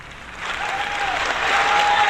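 Applause on a live talk show swells gradually over two seconds, a soft, continuous wash of clapping that grows louder toward the end, with a faint tonal whistle over it.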